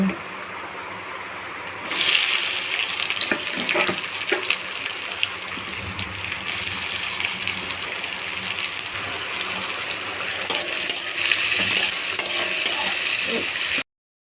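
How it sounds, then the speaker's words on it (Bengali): Onions frying and being stirred in hot mustard oil tempered with cardamom, cloves, cinnamon, cumin and a dried red chilli, a loud steady sizzle with scraping stirs that starts abruptly and continues throughout. "ফোড়নটা ভাজা হয়ে গেছে এবার পেঁয়াজ দিয়ে দেবো"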